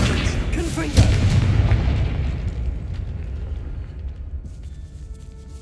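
A Confringo fire spell blasts in Hogwarts Legacy, a sudden boom followed by a rumbling blast that fades away over several seconds.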